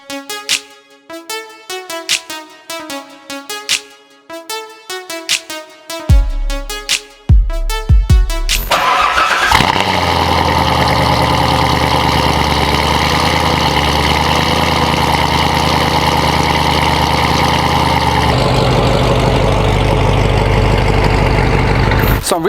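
A C7 Corvette Z06 in a home garage fires up after a run of sharp chiming tones, its engine catching loudly and settling into a steady, rumbling idle that holds close and strong, shifting tone slightly as it begins to move.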